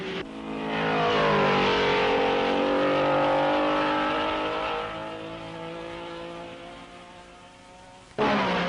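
Racing cars of the 1961 Belgian Grand Prix roar past, a loud engine note rising and sweeping by before fading away, with another car bursting in sharply near the end.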